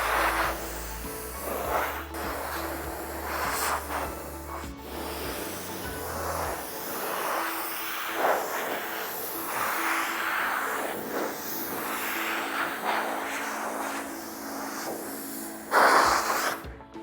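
Compressed air blows dust off a car body panel at high pressure, a continuous breathy hiss with rhythmic bursts and pulses over about seventeen seconds, close and moderately loud, ending in a sharper blast.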